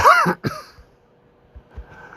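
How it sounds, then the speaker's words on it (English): A harsh, raspy cough bursts out up close, followed by quieter throaty rumbles and a faint breathy sound. "I just can't shake this cough"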